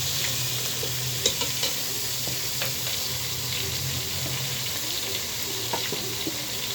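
Whole spices with garlic paste, bay leaf, cardamom, cinnamon and cloves fry in a pan for village chicken biryani, giving a continuous loud sizzle with a few light stirring clinks and scrapes and no talking.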